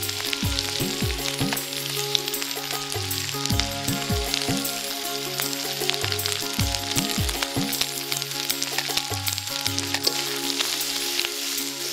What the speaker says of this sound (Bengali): এখন ভালো মতো নেড়েচেড়ে কষানোর পালা